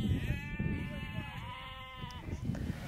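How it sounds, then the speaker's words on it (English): A single long, wavering sheep bleat from a pen in the Falkland Islands, heard close over rough outdoor background noise. "Sheep are important, and they're important for the world because wool is sustainable."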